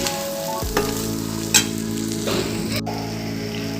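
Mutton brain fry simmers in a pan with a continuous bubbling sizzle, a steady close hiss interrupted by a couple of brief stirring scrapes and a faint hum underneath.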